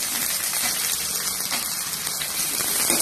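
Garlic and dried red chillies sautéing in a pan for a Tamil garlic chutney, giving a continuous bright sizzle with scattered crackles and pops at a steady level and no talk.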